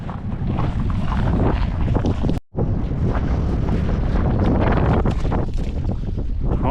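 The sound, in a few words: wind blowing on a lake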